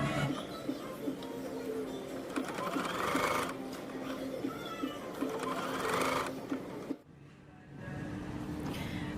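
A sewing machine topstitches around a bag sewn from fabric scraps, a steady close mechanical whirr running in bursts with brief pauses and a gap near the end.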